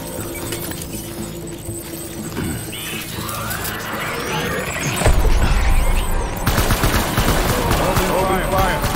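Dense gunfire from a battle in the video game Death Stranding, rapid crackling bursts over rumbling background, rising into a louder barrage midway, with voices mixed in.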